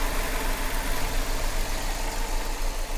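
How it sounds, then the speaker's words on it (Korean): A Chevrolet Malibu's Ecotec engine idles with the bonnet open, giving a steady, even hum at close range that holds level throughout, with no talking. "제가 지금 본넷을 한번 열어가지고 여러분들한테 이제 엔진 소음 한번 들려드릴 건데요"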